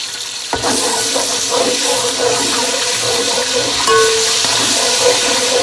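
Garlic ginger paste fries in oil for a chicken korma, bursting into a loud, continuous hissing sizzle after a brief quiet start, with stirring scrapes underneath.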